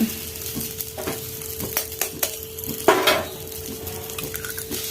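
Eggs and drumstick leaves fry in a pan over a low flame while being stirred, a steady sizzle broken by scraping and clinking spoon strokes against the pan, close up with no talking.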